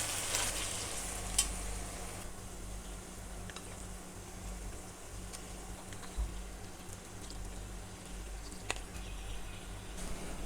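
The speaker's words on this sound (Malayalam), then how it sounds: "ഇതിലേക്ക് ഇനി നമുക്ക് ഇറച്ചി നമ്മൾ മാരിനേറ്റ് ചെയ്ത് വെച്ച ചിക്കൻ ചേർത്ത് കൊടുക്കുക." Marinated chicken for biryani sizzles and fries in hot oil, a soft steady crackle with occasional stirring clinks from the pan, close by with no talking.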